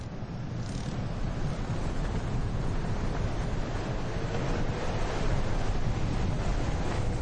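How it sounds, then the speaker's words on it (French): Strong wind roars into the microphone in a constant heavy rumble on the coast at Essaouira, Morocco, with a faint wash of surf beneath it and no voices. "Le vent souffle vraiment trop fort."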